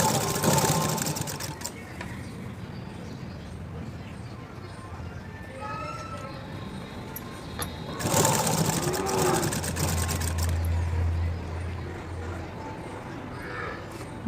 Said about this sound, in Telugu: మీకు ఎక్స్ప్లెయిన్ చేసుకుంటూ చాలా చిన్నగా కుడుతున్నాను.